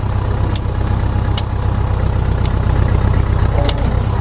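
A tractor engine idles steadily while a fence is being stretched, a loud continuous low rumble close by, with a few faint clicks on top and no talking.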